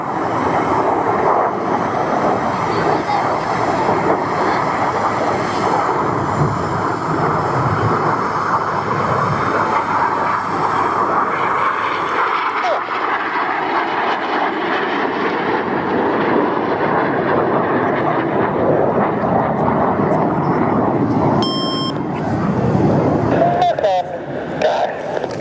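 Aircraft of an airshow Synchro pair roar past in a sustained, loud engine rush that slowly fades and thins, with a public-address voice likely carrying over the top at an outdoor air festival.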